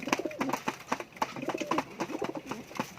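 Young pigeons coo in soft, repeated rounds close by, a steady throaty burble with no talking over it.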